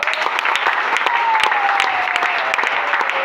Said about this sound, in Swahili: James Fraha, wapigeni makofi hapa.